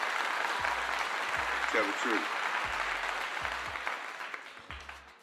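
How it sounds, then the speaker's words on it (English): An audience claps steadily in a broad wash of applause while a voice speaks briefly over it, with low thumps scattered throughout as the clapping thins toward the end. "Give him a clap."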